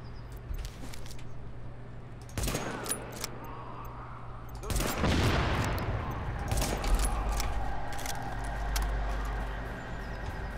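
A handful of sharp gunshots in The Division video game over a steady background hum, with a louder burst midway and a low rumble afterward.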